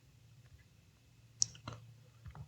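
A few soft computer mouse clicks in a quiet room while using Descript editing software, close and faint against a low steady hum.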